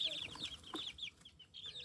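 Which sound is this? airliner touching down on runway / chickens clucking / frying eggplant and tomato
chickens clucking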